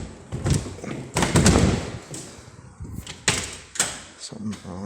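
Metal house door being handled during a walk-through, giving several close thumps, knocks and rattles spread unevenly across the span, with someone talking in between.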